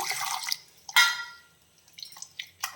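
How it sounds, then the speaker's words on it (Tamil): Warm water is poured into a mixer jar of instant appam batter with yeast, heard as short splashing bursts and drips close by, with no speech. "இதில் வந்து நாம் இனி கொஞ்சமாக வார்ம் வாட்டர் சேர்த்து அதை மிக்ஸ் பண்ணி வச்சிடலாம்"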